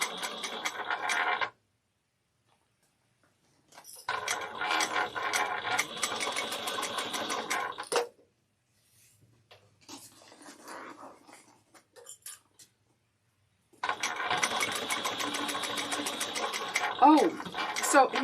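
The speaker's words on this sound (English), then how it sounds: "backstitch wherever you think you need it. I like to backstitch over the top over here" A sewing machine backstitching a bag seam, running in close, loud bursts of rapid mechanical stitching separated by silences, with brief quieter sounds between the bursts.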